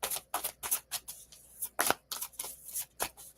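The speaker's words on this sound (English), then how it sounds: "I'm gonna shuffle again." A deck of angel oracle cards being shuffled by hand, a quick series of crisp riffling, flicking bursts at close range and low volume, with no talking.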